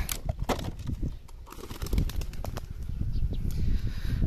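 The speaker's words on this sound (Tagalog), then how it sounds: "na-release na natin lahat yung ibon natin" A flock of pigeons is released, wings clattering in quick, overlapping bursts of flapping close by. The fluttering stays fairly steady and busy for several seconds, with no voices.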